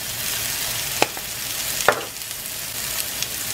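Turmeric sizzles in a hot pan for cauliflower rice, giving a steady close frying hiss broken by a couple of sharp utensil clinks as it is stirred.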